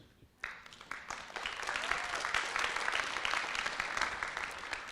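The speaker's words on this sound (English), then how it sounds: "These applause goes to our dear master degree holders." Graduation ceremony audience breaking into sustained applause for master's degree holders at a graduate school of education, many hands clapping steadily and building after a brief quiet start, fairly distant in a large hall.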